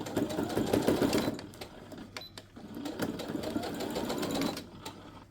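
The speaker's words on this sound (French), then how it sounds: "je vais venir donc ici faire une couture le long du bord, vraiment le long, sans coudre ça, juste en cousant le triangle sur les deux extrémités de patte polo" A sewing machine stitches along the edge of a polo placket, running in two close, steady bursts of rapid mechanical whirring and needle clatter separated by a brief pause.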